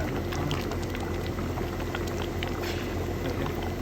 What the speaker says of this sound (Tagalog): Pinapakuluan na yung saging